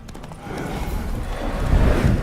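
A horse in The Witcher 3 moves with soft hoofbeats over a low rumbling game soundscape, growing slightly louder toward the end, with no speech over it.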